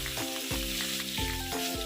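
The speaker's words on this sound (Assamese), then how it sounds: "এতিয়া প্ৰথমতে মই পিঁয়াজখিনি দিলোঁ" Chopped onions hit hot oil for a veg masala Maggi, a close, loud steady sizzle with a few scraping stirs of a utensil in the pan.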